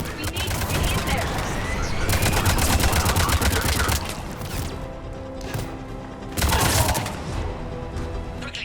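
Bursts of heavy gunfire during a checkpoint firefight in the video game Mass Effect 3, loud and sustained for several seconds, dropping away, then another burst, with battle noise and game voices mixed in.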